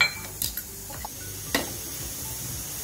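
Khoa (mawa) being sautéed in a pan in a home kitchen, quiet stirring with a few sharp spatula clinks and scrapes against the metal over a soft background hush.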